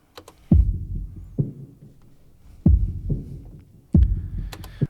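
A drum loop with its top end filtered out by EQ plays as muffled, dull kick and snare hits in a repeating pattern, close and moderately loud with no talking.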